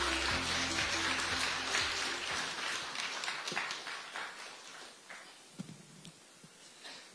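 Crowd applause at a Democratic Party central election committee disbanding ceremony, welcoming the next speaker to the podium; dense clapping fills the opening seconds, then thins into scattered claps and room noise while music fades underneath.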